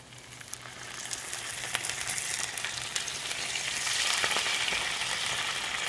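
Browned wild onion mixture sizzles steadily in a hot pan, and the frying hiss swells a little louder as beef bouillon is poured in. No voices are heard over it.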